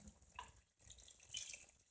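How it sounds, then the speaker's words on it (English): Hot water is poured into a pot of thickened Mexican star noodle soup, a soft hissing splash that rises and continues steadily after a brief quiet moment, close and moderately loud. "you're going to add 2 cups of really hot water"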